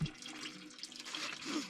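Diesel fuel drains from the tank of a Ford 2701E diesel tractor into a bucket, a faint steady trickling pour that runs continuously without a break.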